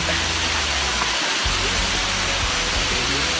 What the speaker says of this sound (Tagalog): And this is the final falls.